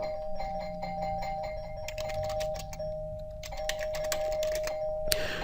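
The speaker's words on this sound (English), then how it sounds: "they won't stop ringing the damn doorbell" A doorbell rings over and over, a steady electronic tone with repeated chimes, sounding alone in an indoor room with a brief sharp burst near the end.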